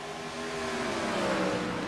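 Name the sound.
race car passing by, from a video game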